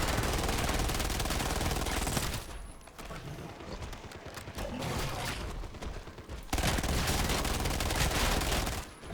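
A gun in a zombies video game fires in dense, rapid automatic bursts, with loud continuous volleys at the start and end and a quieter stretch of scattered shots and mechanical clatter in between.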